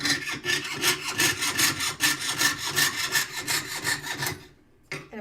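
Someone saws wood by hand with a fast, regular series of rasping strokes, close and loud, and then the sawing stops abruptly near the end.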